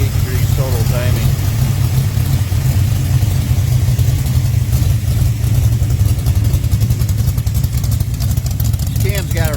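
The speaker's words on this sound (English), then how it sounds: "This cam's got a really nice drive-in idle. I love the idle on this cam." Pontiac 400 stroker engine with Edelbrock heads and a performance cam, idling with a steady, loud, lumpy rumble that runs the whole time, close by, with someone talking over it.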